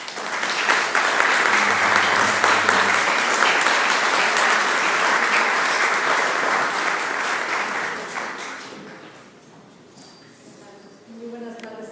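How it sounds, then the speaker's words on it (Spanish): Loud, sustained applause from an audience at a public forum on transparency and anti-corruption in the State of Mexico, welcoming a speaker to the stage; it rolls steadily for about nine seconds, then thins and fades before a voice begins. "le pedimos pase, por favor, y le brindamos un fuerte aplauso."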